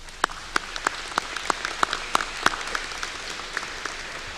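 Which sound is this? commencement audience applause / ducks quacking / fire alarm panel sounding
commencement audience applause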